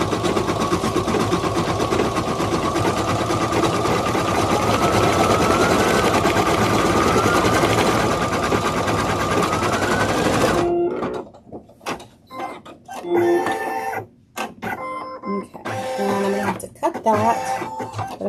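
A machine embroidery unit stitches felt mask ear toppers with a fast, steady mechanical whir, then stops abruptly, leaving a person talking.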